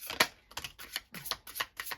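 A deck of cards riffled in one quick pass, a rapid string of crisp close snaps and flutters lasting about two seconds, with no voices.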